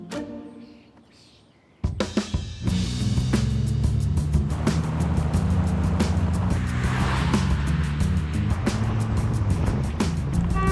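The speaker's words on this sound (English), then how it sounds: "we're going to go for a ride in the Renault" A vintage Renault starts up and drives along the road, its engine a loud steady rumble with rhythmic mechanical ticking after a quiet moment, heard from on board.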